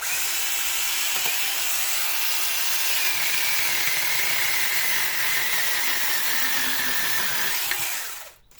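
A cordless battery-powered garden saw whines loudly and steadily as it cuts through a piece of wood, the high buzzing tone holding for several seconds before the motor winds down and stops.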